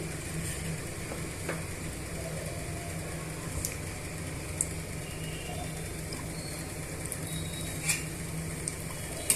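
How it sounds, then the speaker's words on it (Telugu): Onion kachoris deep frying in hot oil, a steady soft sizzle and bubbling hiss running throughout with a few faint clinks, no talk. "ఇప్పుడు మిగతా కచోరీని కూడా మనం డీప్ ఫ్రై చేసుకోవాలి"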